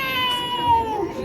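A man imitates a second cat with a voice mimicry of one short, whiny meow that sounds close and alone.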